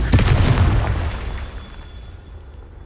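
Confringo blasting spell from Hogwarts Legacy on PS5 goes off in a loud, close boom with a sharp burst at the start, then a rumbling tail that slowly fades over a few seconds, with no voices.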